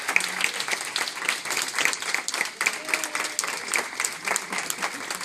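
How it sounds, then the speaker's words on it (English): Steady applause from an audience at a retirement celebration, dense clapping filling the room for several seconds with faint voices and murmurs mixed in. "Give her a nice round of applause."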